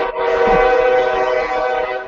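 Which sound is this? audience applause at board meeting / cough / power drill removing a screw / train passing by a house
train passing by a house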